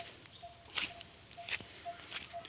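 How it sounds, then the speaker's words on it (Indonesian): Faint, sparse bird calls, short chirps repeating every half second or so, with a few distant sharp notes over quiet outdoor ambience in a cemetery in Rembang, Indonesia. "Ini ada suara burung nih."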